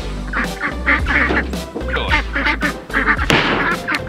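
Ducks on a farm quack loudly and close in repeated bursts over a constant low rumble.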